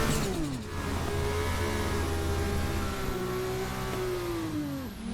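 A Formula 2 race car engine in a racing video game idles and revs steadily with a high, buzzing whine, holding a sustained drone before dropping off at the end.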